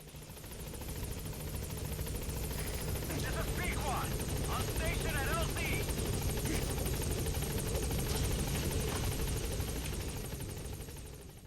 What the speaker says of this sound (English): you summon your chopper and wait for it to arrive.